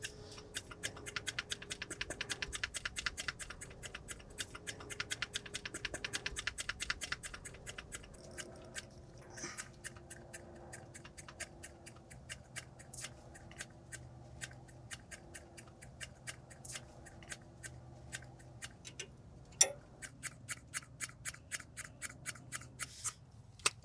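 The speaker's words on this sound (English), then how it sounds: "I got my vacuum pump. I'm going to go ahead and start pumping." A hand vacuum pump draws old brake fluid from the master cylinder through the brake lines, giving a long run of quick, light, rhythmic clicks and squeaks, fairly faint, with no talking.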